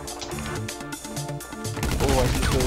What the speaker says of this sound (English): big guns are coming out now